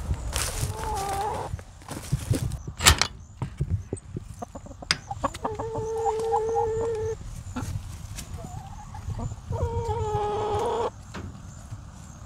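Backyard garden chickens cluck and squawk close by in repeated drawn-out calls, mixed with scratching, rustling and scattered clicks, with no talk.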